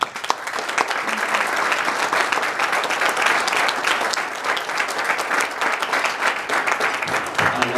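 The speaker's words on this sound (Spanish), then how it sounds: "Un aplauso." An audience at a press conference for a music trade expo gives a long round of applause, thick continuous clapping that holds loud for several seconds before tailing toward a voice.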